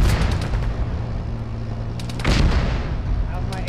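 Friendly gunfire in the Arma military shooter game, played with ShackTac: a loud burst of shots near the middle over a steady low battlefield rumble, with some ringing reports afterward.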